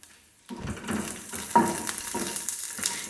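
Chopped garlic and dried red chilies fry in hot oil, starting with a sudden sizzle that keeps crackling steadily, with soft stirring scrapes and a light utensil clink over it.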